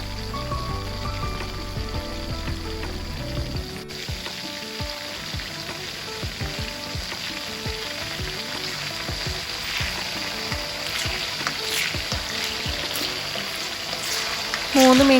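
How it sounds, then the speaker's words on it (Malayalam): Chicken pieces frying in oil in a pan for chilli fried rice, a steady soft sizzle with scattered crackles running throughout, with faint talk over it. "എന്നിട്ട് നമുക്ക് നമ്മുടെ ചിക്കൻ എല്ലാം ഓരോന്നായിട്ട് ഇട്ട് കൊടുത്തിട്ട് ഫ്രൈ ചെയ്തെടുക്കണം."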